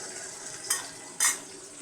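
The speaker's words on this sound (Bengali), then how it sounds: "পেঁয়াজটা একটু ভাজা ভাজা হয়ে গেছে। এখন অল্প রসুন বাটা দিব।" Onions sizzle softly in a hot pan for a taro curry, with two sharp scraping clinks of a spoon or spatula against the metal as garlic paste goes in.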